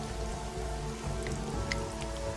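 Steady rain falls in a video game scene, a dense continuous patter of drops with a few brighter splashes standing out, no voices.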